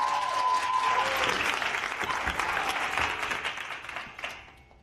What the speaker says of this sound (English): Make some noise for Ryan Himmel.